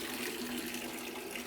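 Water sprays steadily from the bottom jets of a shower fed through a PEX pressure-equalizer loop, a dense, even hiss and rush that stays loud and constant throughout with no talking.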